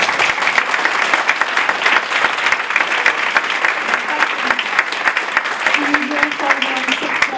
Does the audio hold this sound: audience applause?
yes